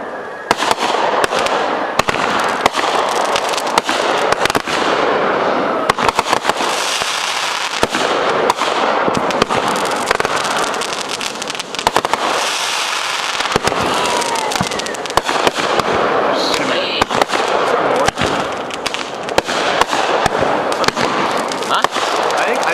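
Family Fourth of July fireworks going off in a rapid run of pops, crackles and bangs at fairly close range, with people talking and reacting throughout.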